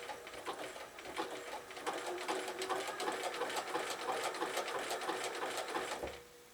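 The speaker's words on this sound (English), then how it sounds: "Now I change back to my zigzag stitch on the same settings I had before." A sewing machine runs a zigzag stitch along the edge of red fabric appliqué, a fast steady mechanical whir with rapid needle ticks that continues for several seconds, then stops abruptly.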